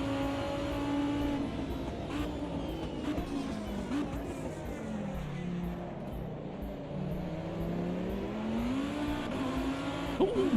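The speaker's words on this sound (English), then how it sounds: "We've got a Maserati attacking us." Maserati race car roaring in Automobilista 2 during a 2005 endurance race, a loud sustained engine note rising and falling with gear changes throughout, steady and close with no talk.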